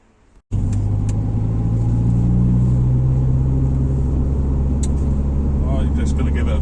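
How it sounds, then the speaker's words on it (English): A turbocharged car engine bursts in after a brief quiet moment, then holds a loud, dense, close rumble that swells slightly as the car pulls away on a test drive. "let's get in this one, take it out for a spin, and get some boost."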